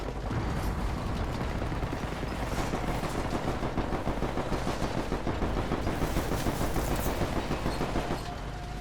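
Sustained rapid gunfire in the World War II shooter Enlisted, aimed at diving Stuka dive bombers over Normandy: dense, continuous bursts of shots layered over engine roar and battle noise, loud and close with no break.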